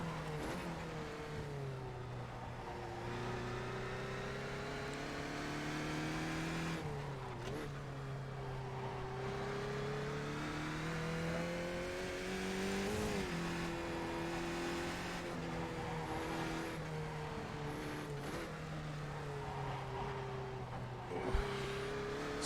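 A Mazda race car in a racing video game at Lime Rock, its engine droning steadily and rising and falling through gear changes for over twenty seconds, with a brief sharp knock near the end and no talk.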